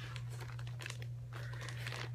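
A plastic bag holding cross-stitch patterns and thread kits crinkles in loose bursts as it is tossed about, fairly close over a steady low hum, with no talking.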